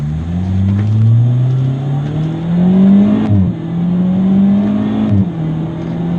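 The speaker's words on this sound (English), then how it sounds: "The sound of the exhaust from the back seat is really nice." A Jaguar XE engine revs up through the gears, its exhaust note rising and dropping twice as it shifts, loud and close from the back seat.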